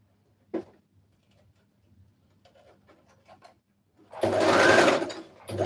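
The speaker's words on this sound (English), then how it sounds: "I'm sewing the last layer." Sewing machine stitching the last layer of a red carpet dress, mostly faint ticks and light mechanical taps at first, then a loud, steady burst of machine running near the end.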